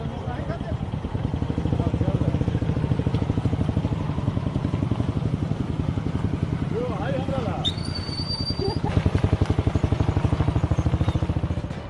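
Motorcycle ridden through narrow village lanes in Bihar, its engine thumping in a fast, even beat that stays close and loud throughout, with a voice over the top.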